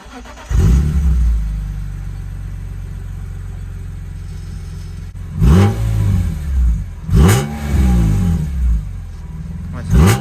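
A BMW M3 starts up with a loud burst, settles into an idle, then revs sharply several times in quick succession, close by, with a voice speaking briefly.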